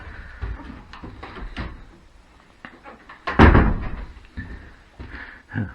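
A wooden door of a wildlife hide at East Wretham, Norfolk, is opened with a few soft knocks and creaks, then a louder thunk midway, close and alone in a quiet room.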